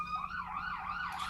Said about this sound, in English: I've heard probably like 5 different sirens since we've been live